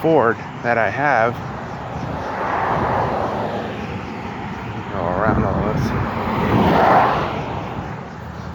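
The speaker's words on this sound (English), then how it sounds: "It's got a strange humming noise when you start up the engine and drive it around." A Ford car engine hums steadily while driving, a broad, strange droning noise rising and falling, with someone speaking briefly over it.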